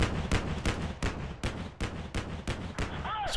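Gunfire in the war game Combat Mission Black Sea: a steady series of about ten sharp shots at roughly even intervals, moderately loud, with a short whine near the end.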